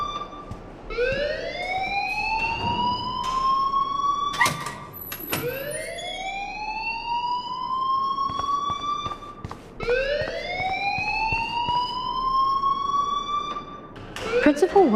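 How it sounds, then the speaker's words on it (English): A fire alarm in the video game Life is Strange wails in a repeating rising siren, cycling roughly every three seconds and staying loud throughout, with sharp clicks and short bursts in between and characters talking over it. "please turn off that alarm since that's your job"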